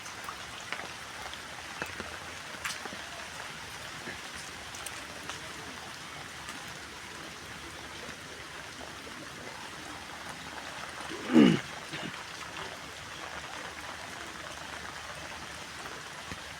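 Rain falls steadily at an eco park in Narsingdi, a soft, even hiss of drops that runs throughout, with one brief louder knock partway through and no one talking.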